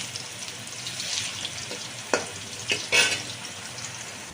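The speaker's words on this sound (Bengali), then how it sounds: "কড়া করেই ভাজবো আলুটাকে" Potato pieces frying crisp in a pan, a soft crackling sizzle with a few louder clinks and scrapes as they are turned, close by and without talk.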